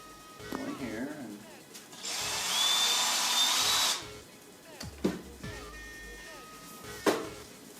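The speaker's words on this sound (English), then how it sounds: "I'm going to drill a little tiny hole inside the machine" A high-pitched electric drill whines steadily for about two seconds while drilling a small hole in an LG washer dryer, bracketed by clicks, handling noises and brief speech.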